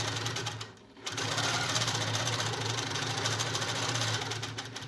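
A longarm quilting machine stitches binding onto a quilt, giving a steady, fast mechanical hum and patter that dips briefly near the start and then runs on evenly and close.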